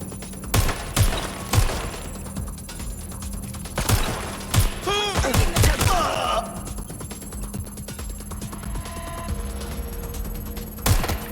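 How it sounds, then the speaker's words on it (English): Rapid bursts of gunfire ring out in the video game Watch Dogs Legion on Xbox Series X, mixing sharp single shots with clustered volleys and thuds at close, loud range. "They're shooting!"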